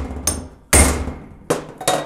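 Metal hammer blows drive a punch down the center of a bolt hole on a Ford 8.8 rear differential, four sharp separate strikes ringing out with short pauses between, close and loud.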